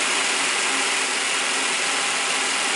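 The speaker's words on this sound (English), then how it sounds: "So there's our mister going on." High-pressure aeroponic mister spraying a fine mist for plant roots, a steady, dense hiss that stays level throughout with no pauses.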